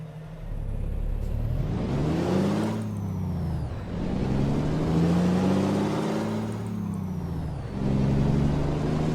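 A K200 tri-axle heavy-haul truck in American Truck Simulator pulls off in first gear on a hill, its loud diesel engine revving up and dropping in pitch repeatedly with each gear change, steady and close.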